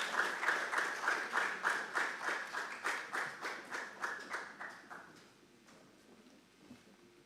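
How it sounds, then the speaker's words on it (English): Audience applause at a national investment quiz competition as a contestant leaves the stage, a rhythmic burst of unison clapping from a crowd that fades out after about five seconds. "let's clap for him as he leaves the stage"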